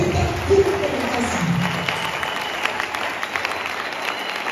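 A church congregation applauding and cheering for the king, with sustained dense clapping and crowd voices over several seconds and some talking mixed in.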